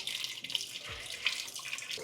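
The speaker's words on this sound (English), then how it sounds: "we're going to cool that down with some water" Tap water is poured over boiled yellow yam in a pot to cool it: a continuous, fairly soft splashing rush with a brief low gurgle near the middle, and no voices.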